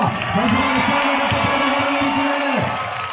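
A dense crowd roars and cheers continuously at a Kerala temple elephant contest, a steady loud wall of voices with a rising and falling whistle or call cutting through, no distinct clapping standing out.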